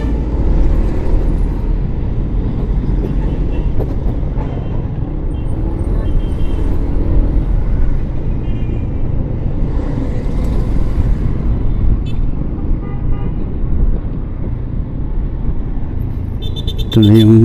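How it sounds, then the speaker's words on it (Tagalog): Steady road traffic rumble heard from a vehicle on a road trip between Misamis Occidental and Agusan del Norte via Claveria, with a continuous engine and tyre drone and a short horn-like toot near the end. "Traffic."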